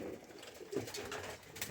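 Pigeons at an El Moro pigeon show coo softly in low, muffled throbs against a faint background hum, quiet and close.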